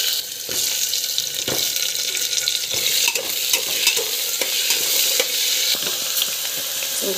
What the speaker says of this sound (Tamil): ஸோ பூண்டு, கடலைப்பருப்பு வந்து வதங்கணும்.